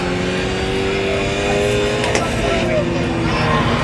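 Supercar lapping a race track at a supercar gathering ride event in Farmington, Connecticut, heard from inside as a steady, loud engine drone with shifting tones and road rumble throughout, people talking over it.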